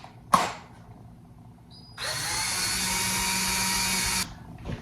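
A power drill drives a screw into a wall: a brief knock, then a steady high-pitched whirr lasting about two seconds before it cuts off, close and fairly quiet.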